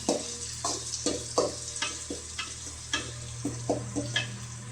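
Onion, garlic and curry leaves sauté in oil with mustard seeds and cumin, a spoon stirring in steady, evenly spaced strokes over a constant low sizzle, close and without talk.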